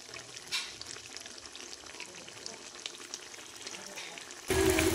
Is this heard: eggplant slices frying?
yes